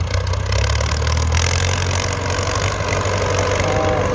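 A Ford tractor engine runs steadily while plowing a rice paddy, a loud continuous low rumble with a mid-range mechanical drone and no speech over it.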